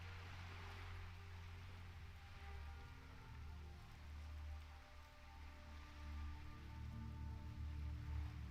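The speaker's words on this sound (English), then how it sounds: "It just got dark and rainy, like, instantly." Rain falls in World of Warcraft TBC Classic as the weather turns dark and stormy, a soft, steady hiss of rainfall over a low ambient hum, faint and unbroken with no voices.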